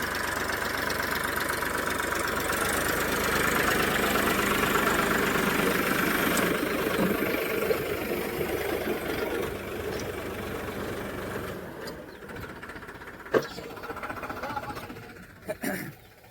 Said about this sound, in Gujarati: ટ્રેક્ટરનો હેડર આવી ગયો હતો